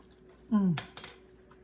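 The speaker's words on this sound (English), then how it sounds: "I'm gonna get a spoon out" A metal spoon pulled from a drawer of cutlery in a home kitchen, one short sliding rattle followed by a couple of bright clinks, close and alone.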